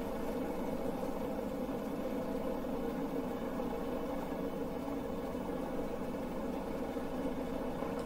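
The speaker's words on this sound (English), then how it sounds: "The sound when the engines are running, though, sounds really good." Boeing 307 propeller engines running in Microsoft Flight Simulator give a steady, loud, continuous droning rumble with no talk over it.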